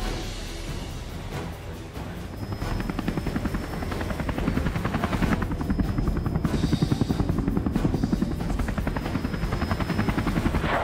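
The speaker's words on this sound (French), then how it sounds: "un hélico les remarque et se pose à côté d'eux" Helicopter in the Square Enix horror RPG Parasite Eve, rotor thrum swelling as it approaches and settles down to land, a loud steady chopping drone with a faint high whine running through it, no voices.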